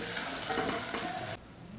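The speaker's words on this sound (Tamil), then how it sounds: "வெண்டைக்காயை வலுவலுப்பு போகிற வரைக்கும் இந்த போல் வதக்கி எடுத்துக்கணும்" Okra sautés and is stirred in a pan, with a close, steady frying hiss and soft stirring that cuts off abruptly near the end.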